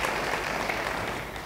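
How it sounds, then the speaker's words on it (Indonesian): Church congregation applauding during a sermon, a short, moderately loud wash of many hands clapping that thins out toward the end. "Yang percaya beri tepuk tangan yang baik bagi dia."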